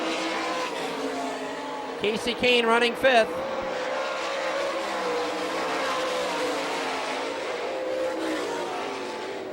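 Sprint cars race on a dirt track at Hartford, Michigan, a sustained engine roar with a brief surge of passing cars, under an announcer calling the race.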